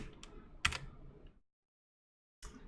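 Quick bursts of computer keyboard typing while code is entered, close and fairly quiet, a dense flurry of clicks that stops into silence before a short final burst.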